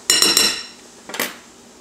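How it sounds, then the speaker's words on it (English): A metal fork scrapes and clinks against a bowl in two short bursts while cutting fat into flour, close and fairly loud, with quiet pauses between. "with a fork, I'm just going to cut the fat into the flour"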